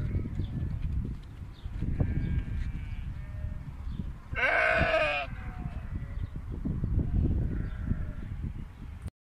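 A Naimi sheep at a busy livestock market gives one loud, close bleat lasting under a second, set against steady crowd and animal noise with fainter bleats further off.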